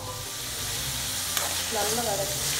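Tomatoes sauté with salt in a pan for a Nagercoil-style thakkali kulambu, with a steady close sizzle and frying hiss and a few scraping stirs, no talk.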